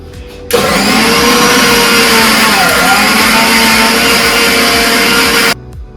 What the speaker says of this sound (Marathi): अशा पद्धतीने चांगलं बारीक दळून घ्यायचं